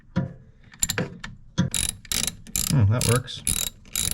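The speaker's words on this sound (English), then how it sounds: "socket on the end of this ratchet, so I'm going to try to get in here and loosen these" A ratchet with a socket clicks in rapid bursts while loosening refrigerator condenser fan bolts, close and sharp with brief pauses between strokes, and a person speaks briefly amid the clicking.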